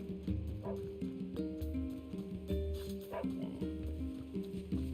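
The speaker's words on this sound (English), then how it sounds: "Here, let's call this little doggy over." A dog in NieR Replicant answers a call with a series of short, close barks and yips in an uneven rhythm, over a low game background.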